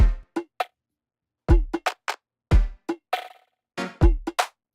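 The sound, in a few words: processed kick drum split into highs, mids and lows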